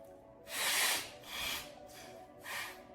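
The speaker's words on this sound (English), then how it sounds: "Just blow my nose." A person blows their nose nearby in a few breathy, rushing bursts of varying length, fairly quiet and with no talking.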